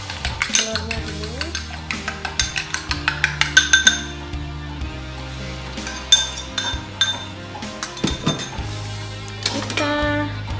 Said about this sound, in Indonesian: Kemudian kita kocok telurnya dulu.